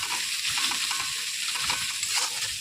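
Ginger garlic paste and garam masala frying in oil in a home kitchen pan, a steady close sizzle with scraping stir sounds throughout, no talking.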